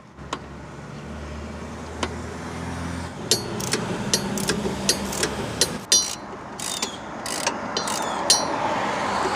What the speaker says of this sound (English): You'll need an 18mm wrench to remove the bottom nut